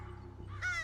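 Crow on a campus giving an alarm call: one loud, harsh caw bursts in near the end after a quieter stretch of low background hum.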